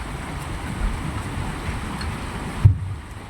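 Dense, steady heavy rain after a storm in Shimla hisses continuously in the background, heard from a ninth-floor room, with a dull thump near the end before it cuts off.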